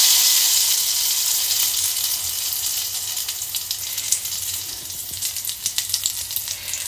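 A mixture poured into hot ghee with a cardamom pod, the flame just switched off, sizzles loudly and steadily, with sharper crackles and pops toward the end.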